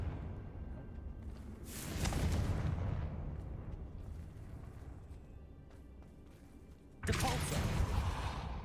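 Fiery Confringo spell blasts in the Hogwarts Legacy video game, two loud roaring bursts, early and late, with a rumbling swell between them.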